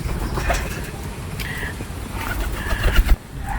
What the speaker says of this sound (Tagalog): Yung aming mga kalapati naghihintay na para po kumain.